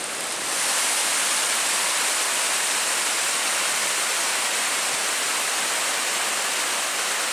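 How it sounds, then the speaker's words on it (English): Spray Falls pouring over cliffs at Pictured Rocks, Michigan, on a windy, rainy autumn day makes a dense, steady roar of rushing water that fades in and then holds loud and constant, with no voices. "Now we've come up to Spray Falls."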